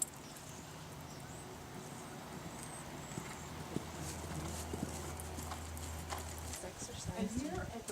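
A horse walks through a stable, its hooves falling in a steady clip-clop that is close and clear over a low background hum, with a faint snort near the end.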